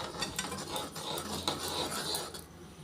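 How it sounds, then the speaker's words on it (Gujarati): A spoon stirs makhana and dry fruit powder into sugar syrup for makhana laddoo, giving a thick, steady scraping and rasping against the pan with small clinks, close and continuous. "હવે આપણે આ ચાસણીમાં આપણે આ જે બધો મખાના અને બધા ડ્રાય ફ્રૂટ્સનો જે પાવડર બનાવેલો છે તે આપણે એમાં નાખીશું અને પછી તેને આપણે હલાવીશું"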